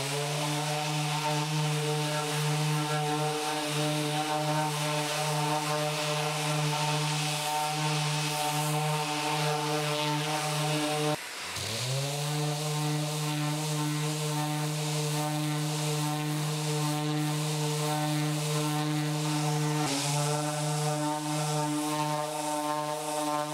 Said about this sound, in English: we're now going to give this another sand.